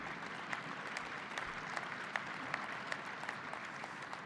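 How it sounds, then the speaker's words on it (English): Steady, dense applause from a political party gathering honoring Finland's newly elected president Alexander Stubb, a continuous wash of many hands clapping at moderate distance with occasional sharper claps standing out. "Let's give big applause to him"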